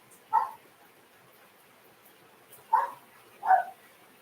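A dog barks three times, short sharp barks spaced apart, against a faint patter of hail on a roof.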